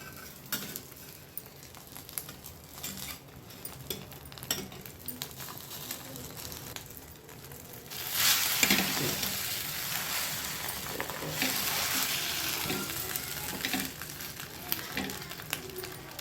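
A corn cheese omelette sizzles in oil in a pan, quiet scraping and stirring at first, then a louder burst of frying after it is flipped that keeps hissing steadily.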